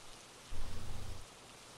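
Rain from the video game Phasmophobia, a steady broadband hiss of falling drops with a brief low rumble swelling in the middle.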